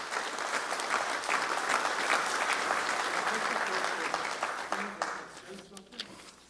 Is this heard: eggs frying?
no